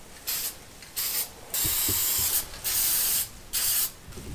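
Bursts of spray hiss from a paint can inside a homemade paint booth, several short sprays then longer continuous ones, close and steady with brief pauses between.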